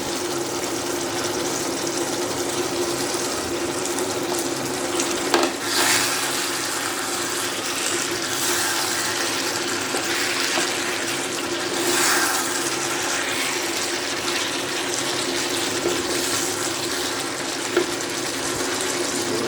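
Water poured steadily into a pot of Dhaba style Punjabi chicken masala curry with potatoes, a continuous loud gushing splash running throughout with no talk.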